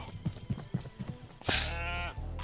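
Goats in the video game Estate Agent Simulator: a few soft thumps and footfalls, then a loud, close bleat that rings out for about half a second, followed by a brief lower cry. No one speaks.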